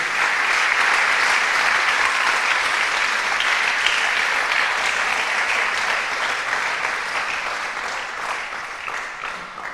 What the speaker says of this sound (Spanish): Dele un aplauso al Señor, hermano amado.